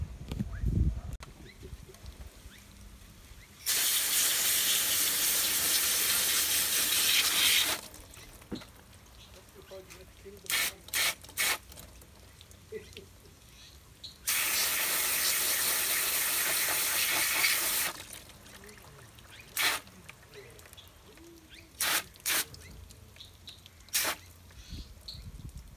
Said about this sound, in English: And just continue spraying all the leaves